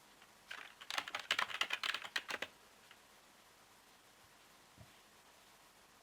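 Brief burst of rapid typing on a computer keyboard, a quick cluster of close keystrokes lasting about two seconds, then quiet room tone.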